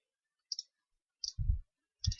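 Arrow keys on a computer keyboard pressed repeatedly, giving three sharp, crisp clicks spaced under a second apart, with brief low thumps after the later two, in an otherwise silent room.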